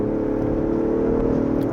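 Six-cylinder gasoline engine of a Range Rover revving steadily at close range, a continuous loud mid-pitched drone with no voices.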